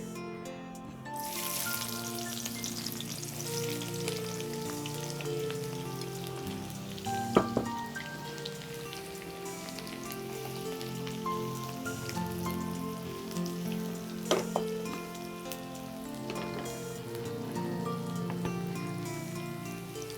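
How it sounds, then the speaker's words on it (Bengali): Onion sizzles and crackles in hot oil in a pan as the base for dried fish chutney, a steady close frying hiss with occasional sharper pops and no talking. "এবার চাপা শুটকির জন্য পেঁয়াজটা দিয়ে নিচ্ছি আগে"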